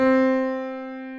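A single sustained piano one-shot note for UK drill struck once, ringing clearly and decaying gently over about a second, alone.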